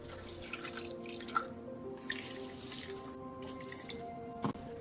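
Tap water running into a sink while beans are rinsed before soaking for a Korean sweet rice cake, a steady close stream with small drips and splashes and no talk.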